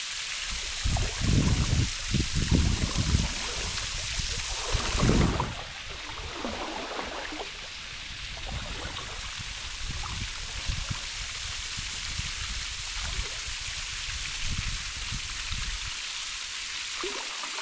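Water from a waterfall near caves at Lake Malone, Kentucky, heard from a kayak: a steady broadband rush with heavier splashing and sloshing close by in the first few seconds, then a softer, even flow.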